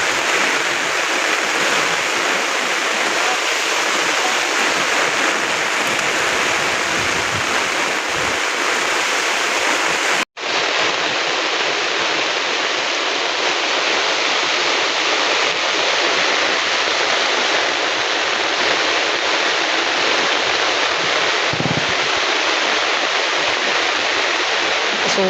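Heavy rain pours down in a steady, dense hiss that stays loud and unbroken, with one brief dropout partway through.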